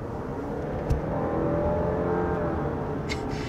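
A 2023 Jeep Grand Cherokee 4xe plug-in hybrid accelerates, a muted rising engine whir heard from inside the cabin, steady and moderately loud, with no voices.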